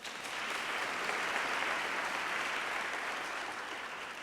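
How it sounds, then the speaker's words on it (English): An audience at a Father of the Year awards ceremony breaks into sustained applause, a dense, even wash of clapping from many hands that swells slightly mid-way and carries on alone without talk. "Round of applause"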